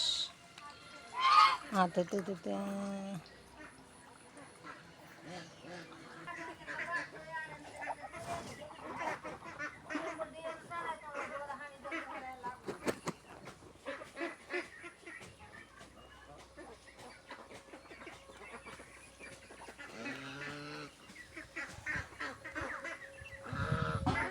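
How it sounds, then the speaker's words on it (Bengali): A pair of Chinese ducks, a male with a knobbed head and a female, give faint, scattered honks amid a busy background, with a person talking throughout. "চীনা হাঁস।"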